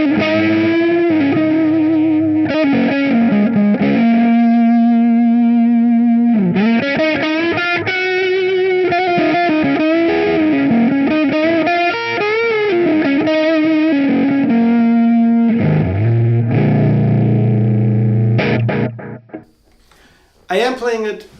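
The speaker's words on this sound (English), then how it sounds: "I am playing it into my Marshall DSL5, got it pretty much cranked." A 1981 Gibson electric guitar plays through a cranked Marshall DSL5 amp with an Electro-Harmonix Soul Food overdrive, producing sustained, distorted lead and chord lines that ring loud and close for about twenty seconds before cutting off.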